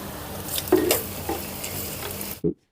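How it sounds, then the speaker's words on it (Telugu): Chopped ginger and green chillies fry in hot oil in a pan, a close, steady sizzle with a couple of stirring scrapes and a final short clink before it goes silent. "వీటన్నిటిని ఒక నిమిషం పాటు వేయించుకుందామండి ఇవన్నీ వేగేయండి"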